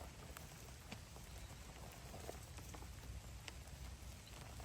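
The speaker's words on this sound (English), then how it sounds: "We do have some rain droplets falling at this point for sure. Might be able to hear it a little bit." Light rain patters steadily on surfaces outdoors at a spring disc golf tournament in Spartanburg, a faint, even hiss of droplets with no talk.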